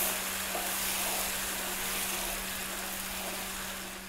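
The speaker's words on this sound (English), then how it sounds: "what this does is deglaze the pan so you can pick up the tiny bacon bits" Vodka hitting a hot pan with bacon bits sends up a loud, steady broadband sizzle that hisses on without a break, close and continuous, with a faint low hum running underneath and no voices.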